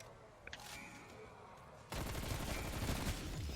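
Rapid gunfire erupts in the Die Maschine zombies video game, a sudden dense stream of shots starting midway and continuing loudly to the end after quieter game ambience.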